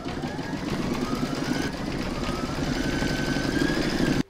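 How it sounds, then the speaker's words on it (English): An embroidery machine stitching a hedgehog applique, a steady rapid mechanical whirring and needle tapping held close and loud for a few seconds, no talk. "I'm now going to pop that back into my machine and stitch round number 3"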